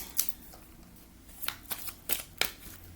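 A few soft, brief riffling bursts of tarot cards being shuffled, close and quiet, separated by short pauses.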